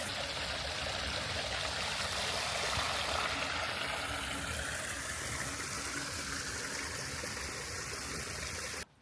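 Spring water pours steadily out of rock at the source of the Lauter river, a continuous close, loud rushing trickle that holds even throughout and then cuts off abruptly at the end.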